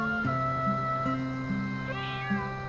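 Kittens meowing in a Chinese television drama scene, several drawn-out, tonal meows following one another over a steady background hum, fairly close and clear, with no talking.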